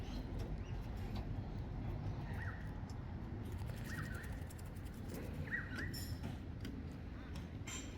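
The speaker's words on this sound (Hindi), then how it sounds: "खूबसूरत तोता है।" A pet parrot gives several short, sharp calls while being hand-fed bread indoors, spaced out over a steady background hum.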